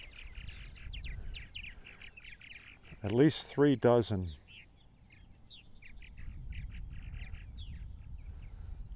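Purple martins around a busy nesting colony on eastern Long Island chatter and chirp in quick bursts, briefly interrupted by someone speaking close by before the bird calls and low background rumble resume.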